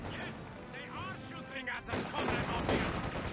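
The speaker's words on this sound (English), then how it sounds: "Yes, they are shooting at us" In the World War II strategy game Company of Heroes 2, gunfire and artillery rumble in the background of a match. Voices talk over the battle for most of the clip.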